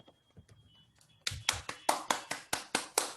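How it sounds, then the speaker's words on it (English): A Toastmasters meeting audience applauds in a short burst of steady, evenly spaced claps that start abruptly after faint background murmur, close and fairly loud. "please applaud whenever a person join on the stage"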